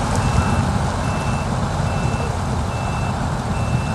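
Reversing beeps from a truck in the off-road driving game SnowRunner, a steady evenly spaced electronic beep repeating about every second over a loud, continuous engine rumble, with no talking.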